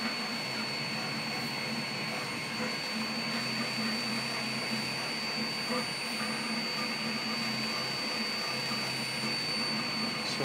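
A double beam 2 x 10 watt diode laser cuts 3 mm plywood, giving a steady whirring drone with faint hum and fan noise that holds evenly throughout, no talking.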